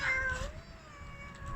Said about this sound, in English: There's a robot cat.